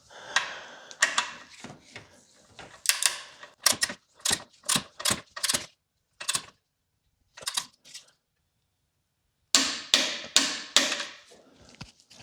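A torque wrench ratchets as it tightens the oil drain plug on a 2019 Subaru Crosstrek. Quiet bursts of rapid, crisp clicks come in short runs separated by pauses, with no talking.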